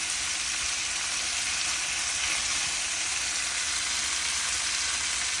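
Prawn masala fries in a pan, an even, unbroken hiss of sizzling oil at moderate loudness with no distinct stirs.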